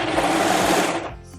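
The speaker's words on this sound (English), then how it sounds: "Start by serging over that." A serger overlocks and trims the seam of a dress being altered, running as a steady loud buzzing whir that slows and stops near the end, with no talk.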